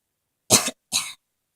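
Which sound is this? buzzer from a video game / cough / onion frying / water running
cough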